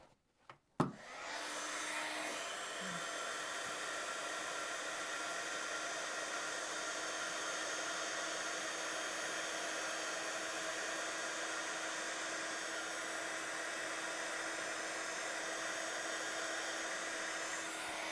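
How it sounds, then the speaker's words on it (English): A heat gun melts embossing powder on small paper flowers for a handmade card, a steady close airy roar that starts with a click and runs unbroken for over fifteen seconds. "you're just going to move the heat gun over the image"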